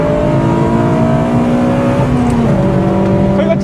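A Honda FD2 Mugen RR engine revs hard toward 8000 to 9000 rpm, a loud, sustained rising wail with a brief drop near the end as the pitch resets, heard up close without speech.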